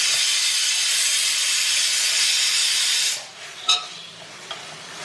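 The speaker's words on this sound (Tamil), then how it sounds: "இந்த வெஜிடபிள்ஸை அட்லீஸ்ட் ஒரு 5 மினிட்ஸ் வந்து நல்லா ஃப்ரை பண்ணி விடணும்" Cauliflower, carrot, beans, peas and potato sautéing in onion masala, a loud, steady frying hiss for about three seconds that then drops away, leaving quieter sizzle and a couple of stir clinks.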